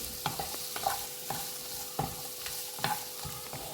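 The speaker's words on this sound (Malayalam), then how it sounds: "അത് നന്നായിട്ടങ്ങ് മൂത്ത് വരികയാണ്" Onion masala with chillies sautés in a pan for matar paneer, a low continuous sizzle punctuated by regular spatula strokes about every half second, close and moderately quiet, no voices.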